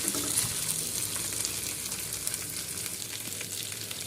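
Chicken roasting on a hot tawa gives off a steady, close, bright sizzle of frying oil that holds evenly with no talk over it.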